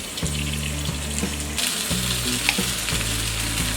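Boiled, grated potatoes tumble into a hot frying pan for bread rolls, giving a steady close sizzle with scraping, stirring thumps and a louder burst of frying partway through.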